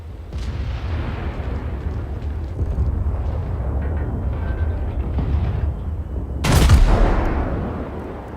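Battleship gun salvo in World of Warships, fired from a Kaiser battleship: a low rumbling background of naval combat, then a sudden loud booming blast near the end that rolls off, with no talk over it.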